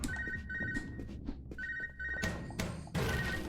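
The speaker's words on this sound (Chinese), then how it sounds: "电话响，滴滴滴滴滴滴" A phone rings in the video game UnMetal, with two bursts of a close electronic trill and a third starting at the end. Soft thumps and low game background sound run between the rings.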